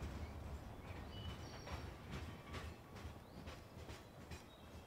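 A train pulls away in Landwirtschafts-Simulator 15, with steady rolling rail noise and faint rhythmic clatter of wheels on track, quiet and somewhat distant, continuing evenly for several seconds.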